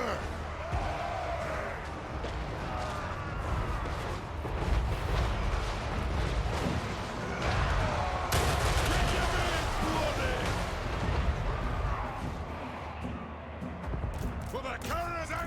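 Dwarf organ gun and artillery firing in a battle video game, heard as a dense, continuous rumble of booms and cracks. Shouted voices and battle noise sit over the top throughout.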